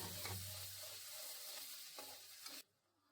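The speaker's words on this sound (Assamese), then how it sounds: "ধুনীয়াকৈ অলপ দেৰি ভাজি ল'ম" Spice paste for chole fries quietly in a pan, with a soft sizzle and a few scraping stirs, then falls nearly silent after a couple of seconds.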